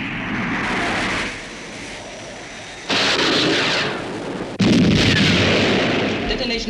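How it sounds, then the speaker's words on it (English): A missile firing and detonating as a sci-fi sound effect: a loud, steady rushing roar that shifts abruptly in level twice, each time jumping into a harsher, more intense blast that continues to the end. "Detonation positive."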